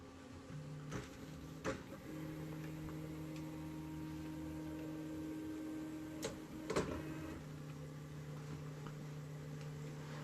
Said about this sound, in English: The printer is about to begin printing the keyguard.